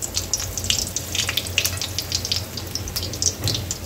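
Medu vada, a sticky lentil-batter fritter, frying in hot oil in a home kitchen, a steady close crackling sizzle with dense bubbling that holds continuously throughout, with no talk.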